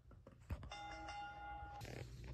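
A ring bell clangs at a televised professional wrestling match, producing a sustained ringing tone above loud arena crowd noise.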